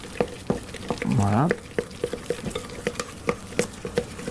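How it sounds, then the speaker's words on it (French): A whisk scrapes and taps in a saucepan as sifted flour is stirred into liquid for choux pastry, with quick regular strokes over a soft sizzle and one short spoken word. "ça va me permettre de mélanger correctement ma farine et mon liquide sans que je sois préoccupé par la chaleur de ma casserole"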